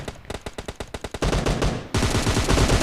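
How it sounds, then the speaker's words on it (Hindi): Gunfire in a shooting video game: a rapid string of loud, evenly spaced automatic shots, then a denser continuous burst of firing with no pause, close and dominant throughout. "ये मैंने भी फायर कर दी"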